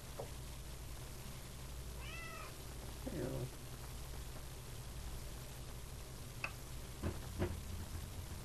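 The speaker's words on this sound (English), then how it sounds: "Being a very loud kitty." A cat meows several times, drawn-out and fairly loud, over steady rain-like background noise, with a few sharp clicks near the end.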